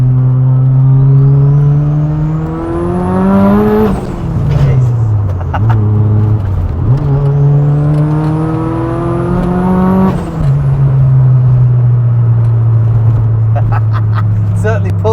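A 650bhp TurboSystems Ford Sapphire Cosworth with an upgraded rear beam and limited-slip differential accelerates hard through two gears, its loud engine note climbing steeply before each shift, then settling into a steady drone while people talk inside.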